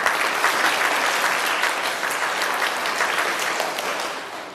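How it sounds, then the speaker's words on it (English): A live audience claps in unison along with a drummer, a dense, steady wash of many hands filling the room for the whole stretch, tapering slightly toward the end. "Clap with me."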